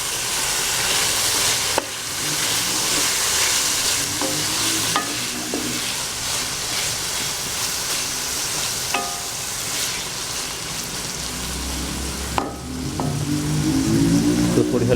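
Small potato cubes, soaked in water beforehand, fry over low heat in a pan with a dense, continuous sizzle and occasional stirring clinks and scrapes, close and steady throughout.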